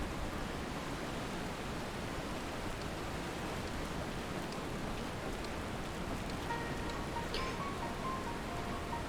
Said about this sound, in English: I like it when it rains. I like the sound of the rain.